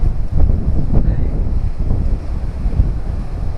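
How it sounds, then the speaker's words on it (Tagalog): Strong typhoon winds from Typhoon Kristine buffet the microphone in a continuous low, rumbling roar with irregular gusts, loud and close, and no voices. "Malakas pa rin yung hangin dito mga kabiyahe."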